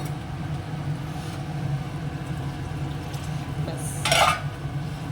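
Potatoes and water go into a cooking pot over a low, steady kitchen rumble, with faint stirring and one brief, brighter splash or clatter near the end.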